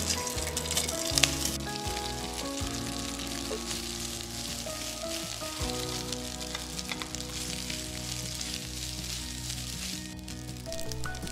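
Rice fries in oil in a pan with toasted garlic, giving a soft, steady sizzle and crackle. Intermittent scraping clinks from stirring come through close up, with no talking.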